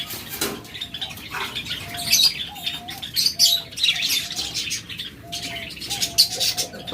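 Small pet birds for sale, such as lovebirds, budgerigars, Java sparrows or cockatiels, chirp in a cage at a market, with busy high twitters and short repeated calls fairly close, over a steady background.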